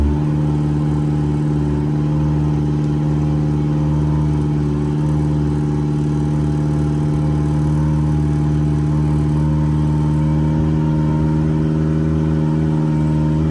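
A Yamaha 70 outboard motor with a low-voltage charging fault holds high RPM in a steady, close, unbroken drone of engine hum and buzz, with no voices.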